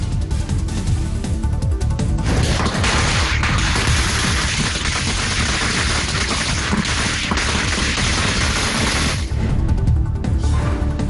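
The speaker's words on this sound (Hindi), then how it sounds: "पनीर सेल्वम के समर्थकों ने जयललिता की समाधि स्थल के करीब फोड़े पटाखे" Firecrackers set off by a crowd of supporters near a memorial site, a dense, continuous barrage of sharp cracks and bangs rattling on loudly throughout, with no talk heard.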